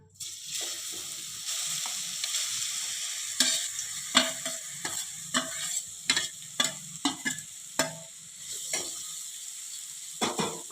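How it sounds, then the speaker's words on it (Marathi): Grated raw mango sizzles and fries in ghee, with a steady frying hiss broken by repeated scraping strokes of a spoon stirring the pan, close and fairly loud. "आता आपल्याला ही किसलेली कैरी एक तीन ते चार मिनटापर्यंत तुपात छान अशी परतून घ्यायची आहे"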